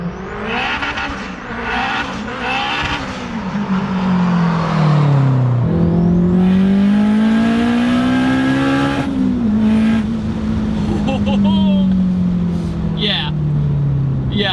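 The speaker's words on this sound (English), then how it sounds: "it sounds like it's turboed. You hear the turbo all the time." A turbocharged Acura RSX Type S engine revs and drops repeatedly, its pitch sweeping up and down, with a constant turbo whine and whoosh running underneath, loud and close.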